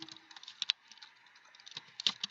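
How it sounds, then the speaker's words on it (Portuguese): A name being typed into an Excel spreadsheet on a computer keyboard: a quick, uneven run of close, light key clicks with a few sharper taps, alone and without talk. "O primeiro você vai digitar o nome."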